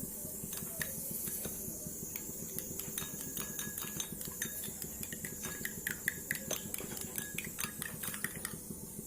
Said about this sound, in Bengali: একটু লবণ দিয়ে ডিমটাকে ফেটিয়ে নিচ্ছি।